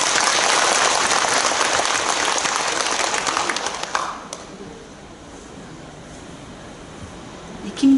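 Audience applause at a school entrance ceremony, a steady dense clapping that fills the hall for about four seconds, then fades to a quiet room.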